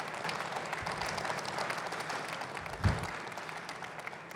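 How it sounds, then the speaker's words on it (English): Audience applause at the outdoor groundbreaking ceremony for Womack Commons and a parking garage, a steady wash of many hands clapping at moderate distance for the full length, with one louder thump near the end. "Let's give him a round of applause."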